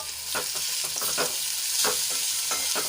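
Sliced cabbage, about 150 g cut into long strips, is stirred in a hot frying pan for a Gujarati thali, giving a steady close sizzle with repeated scraping strokes of the spoon.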